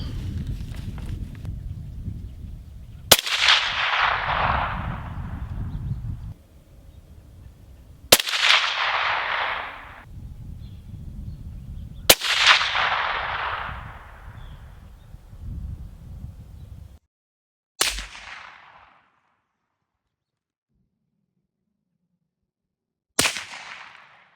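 Rifle fired three times through a Dead Air Nomad LTI XC suppressor outdoors, each sharp report decaying over a few seconds, followed by two fainter distant cracks; low wind rumble fills the gaps.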